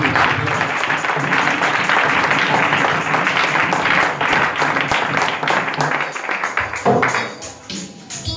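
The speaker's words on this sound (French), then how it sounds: "Donnons une acclamation à Jésus." A congregation claps and cheers in church, a loud, dense burst of applause that thins into scattered claps toward the end.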